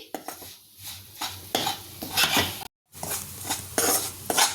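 Moong dal roasting in ghee over low heat is stirred continuously, giving repeated scraping strokes of a spoon against a pan with faint metallic clinks, close and steady, with no voices.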